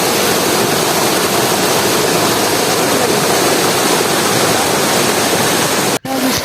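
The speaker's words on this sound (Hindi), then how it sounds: "इसकी इतना ज़्यादा वहाँ पर शोर होता है वाटरफॉल का" Mantokha Waterfall in Skardu roars as a loud, steady, broadband rush of falling water close by, unbroken except for a momentary dropout near the end.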